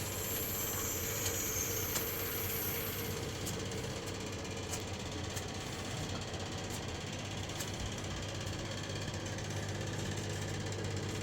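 Refrigerant gas vents from a split air conditioner during a small server-room installation, a steady broadband rushing hiss with a thin high whistle over the first few seconds, then an even rush with faint clicks.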